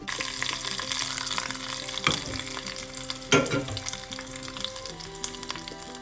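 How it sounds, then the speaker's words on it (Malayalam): Ingredients for cucumber pachadi sautéed in a pan: a low steady sizzle under occasional louder scrapes and clacks of a spoon against the pan, close by, with no speech. "എല്ലാം കൂടി ചേർത്തൊന്ന് മോപ്പിച്ചെടുക്കാം"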